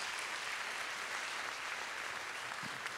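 Audience applause at a Ma thèse en 180 secondes evening, a steady, dense patter of many hands clapping, fairly soft and even throughout with no voices.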